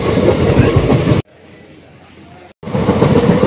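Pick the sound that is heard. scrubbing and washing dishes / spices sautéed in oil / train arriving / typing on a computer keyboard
train arriving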